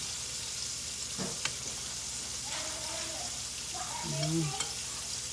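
Battered chicken, soaked in milk in place of buttermilk, frying in oil with a steady close sizzle and a few clattering stirs and scrapes of a utensil over it.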